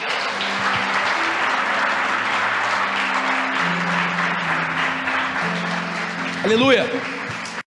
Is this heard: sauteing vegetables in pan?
no